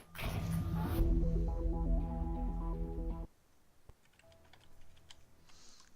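Keys clatter on a Logitech keyboard in a TV advert, rapid typing heard up close under a layered musical backing, then thinning to sparse light ticks and faint background sounds once the music drops away.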